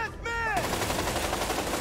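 Gunfire in the video game A Way Out: a loud, dense burst of rapid automatic shots rattling continuously, following a brief moment of other game sound.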